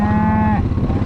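A single loud cow moo close by in a spring pasture, a sustained low bellow lasting about half a second before trailing off into quiet outdoor background.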